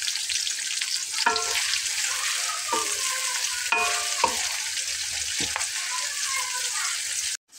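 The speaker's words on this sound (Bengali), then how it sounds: "পেঁয়াজটা অন্তত 5 মিনিট ভেজে নেওয়ার পরে আমি লবণ ছড়িয়ে দেবো" Onions fry in a pan for a chicken malai korma, a steady loud sizzle running throughout, broken by occasional scraping stirs of a utensil against the pan.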